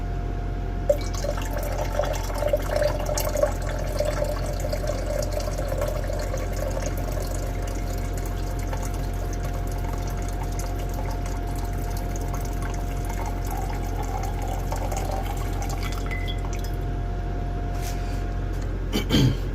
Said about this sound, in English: Slowly pour this in.